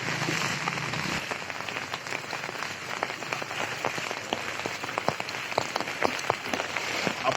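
Heavy monsoon rain falls steadily in a street in Nalasopara, Palghar: a dense, continuous hiss of drops with sharp individual spatters throughout, loud and close.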